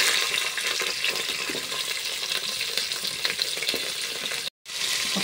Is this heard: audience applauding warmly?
no